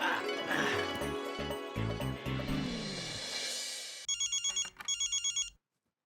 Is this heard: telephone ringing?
yes